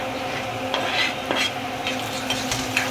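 Chopped tomato being stirred into onions frying in a pan, a continuous close sizzle with several scraping strokes of a spoon against the pan, no voices.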